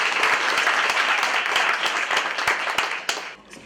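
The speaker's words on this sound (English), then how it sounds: "So can y'all get a round of applause for yourselves?" An audience at a spoken word poetry event applauds, a dense burst of clapping that holds steady before tapering off and fading out near the end.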